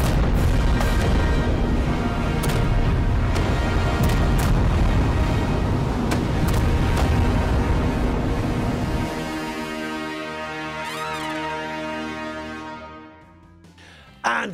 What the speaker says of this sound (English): And what great fireworks they were, weren't they?